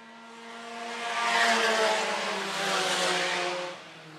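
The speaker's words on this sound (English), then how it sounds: "Johnson, closest battle on the track will be for that second spot." Sport compact race cars at a raceway pass with a rising then fading engine drone, a sustained buzzing whine that swells to a peak and trails off as the cars circle the track at mid distance.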